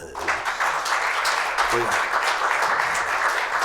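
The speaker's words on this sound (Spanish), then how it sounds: "Denle un aplauso a la gloria de Dios" A church congregation at a Sunday sermon claps in a sustained, dense wave of applause, with a short spoken interjection over it near the start.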